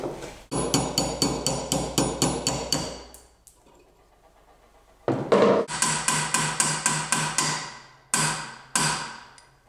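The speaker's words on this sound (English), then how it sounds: "I'm gonna try and tap that out with a punch" A hammer strikes a punch to drive a pin from a vintage boat's crank, giving sharp metallic taps in fast regular runs, a pause, then more series of close, loud blows.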